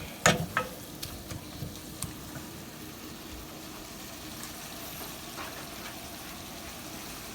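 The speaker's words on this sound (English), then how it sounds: "it's going to reduce quite a bit while I stir fry it in my little mixture" Spinach stir-fried in a pan gives a soft, steady sizzle, with a few sharp clinks of the utensil against the pan near the start and quieter taps afterward, close and fairly faint.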